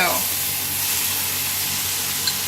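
Onions sizzle steadily in hot oil in a pan for beef carbonnade, a dense, even hiss that stays close and loud throughout with no talk over it.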